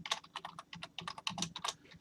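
Loud typing on a computer keyboard, a quick irregular burst of close clicking keystrokes, heard alone without speech.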